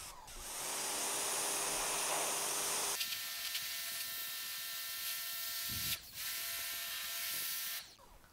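Sun Joe SPX3000 electric pressure washer with a 25-degree general-purpose nozzle blasting mold off fiber-cement siding: a steady, loud hissing spray with motor whine, the pitch shifting at about three seconds and briefly cutting near six and eight seconds.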